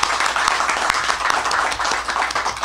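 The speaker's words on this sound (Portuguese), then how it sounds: "Vamos aplaudir o Senhor Jesus?" A church congregation applauds in worship, a dense, lively crackle of many hands clapping at once, loud and continuous with scattered sharper claps standing out.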